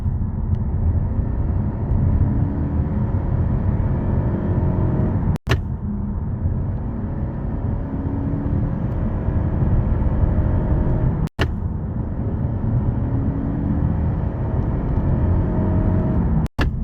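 2024 Toyota Camry accelerating, a steady engine and road rumble from inside the cabin with a faint rising transmission whine, broken by brief sharp clicks.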